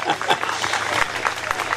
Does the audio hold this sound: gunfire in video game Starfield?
no